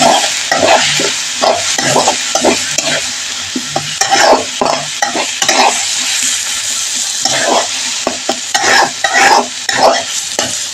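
Bottle gourd and shrimp cooking in a pan, with a steady sizzle and frequent close scraping and stirring strokes of a spatula against the pan throughout, no voices.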